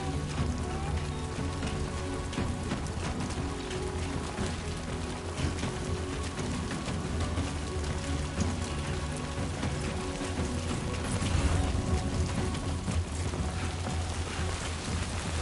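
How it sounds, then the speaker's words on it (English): Rain falls in Death Stranding 2, a dense, even hiss of drops on surfaces that holds steady throughout with no voices over it. "Starting to rain."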